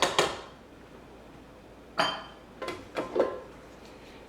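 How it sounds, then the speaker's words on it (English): A whisk attachment knocks against a mixing bowl to shake off freshly whipped cream, giving a sharp clatter, then a few lighter metallic taps after a pause, close and in an otherwise quiet kitchen. "I'm just gonna hit it off our whisk attachment."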